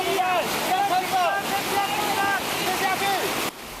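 A flooded, fast-running stream in Taiwan, where rescuers worked to reach two trapped men, rushes in a loud, constant wash close by, while people talk over it.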